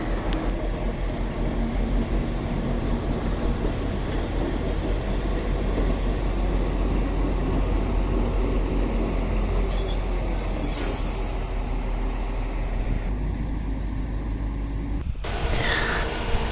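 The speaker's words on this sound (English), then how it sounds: "First movement on this train line in 6 years on Vancouver Island." A diesel train making its first move in six years on a rail line on Vancouver Island, a steady low engine rumble with a brief hiss partway through and a clank near the end, heard alone without talk.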